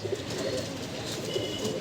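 Giribaz pigeons coo softly in a brief, low burble, a couple of gentle throaty calls close by over a faint background hum.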